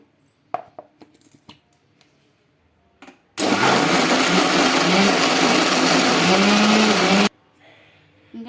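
A mixer grinder grinding semolina dosa batter roars loudly for about four seconds, whirring steadily before cutting off abruptly, with faint clinks and movement before and after.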